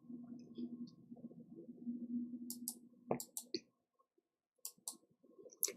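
Computer keyboard typing comes as scattered, light key clicks in short bursts that follow a stretch of low humming talk, with brief pauses between the bursts.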